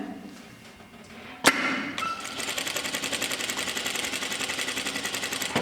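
A sewing machine stitches a shirt seam, a sharp knock first, then a steady rapid mechanical chatter that runs evenly for several seconds, close and fairly loud with no talking.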